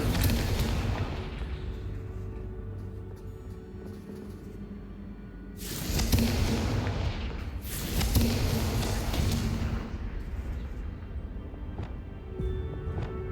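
Confringo blasting spell explosion in Hogwarts Legacy, heavy booming bursts around six and eight seconds over a low rumbling game ambience, loud and close.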